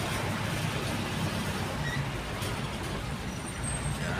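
Heavy traffic on the Skyway elevated expressway makes a steady broadband roar with low rumble, continuous and fairly loud, with no voices.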